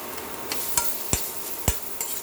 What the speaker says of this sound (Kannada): ಹಾಗಲ್ಕಾಯಿ ಹೆಚ್ಕೊಂಡಿದ್ನಲ್ಲ ಸಣ್ಣಕ್ಕೆ ಅದನ್ನು ಹಾಕ್ತಾಯಿದ್ದೀನಿ ಅದನ್ನು ಒಂಚೂರು ಚೆನ್ನಾಗಿ ಬಾಡಿಸ್ತೀನಿ